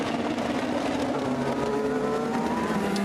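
Rebellion prototype race cars pass the Indianapolis corner at the 24 Hours of Le Mans 2020. A continuous, moderately distant engine whine shifts in pitch as the cars brake and accelerate through the bend.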